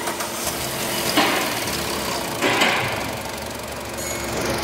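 A car engine idles with an abnormal lash noise, a steady mechanical rumble carrying ticking clatter, with two brief louder bursts of hiss or rattle along the way; no one talks.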